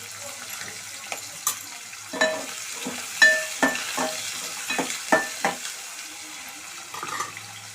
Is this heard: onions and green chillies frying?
yes